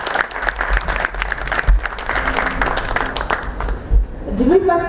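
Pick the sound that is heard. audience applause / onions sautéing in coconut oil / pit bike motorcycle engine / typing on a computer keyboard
audience applause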